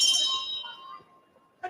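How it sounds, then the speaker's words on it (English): A wrestling ring bell rings once, a bright clanging strike that rings out and fades, followed by a short second knock, set against faint background voices. "Right on the bell of round 1."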